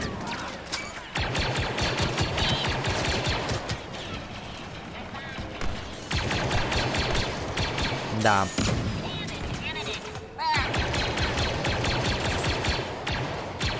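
Rapid blaster gunfire and explosions from a Star Wars Battlefront II online battle crackle almost continuously, loud and dense, with brief lulls and a voice speaking briefly.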